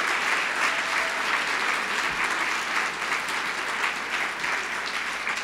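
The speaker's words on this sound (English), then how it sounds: "I would like you to give them a round of applause to say thank you" A crowd at a history event gives volunteers a round of applause, a dense, even clapping that stays loud and steady throughout with no talk over it.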